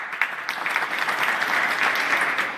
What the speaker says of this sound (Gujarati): એમના માટે તાળીઓ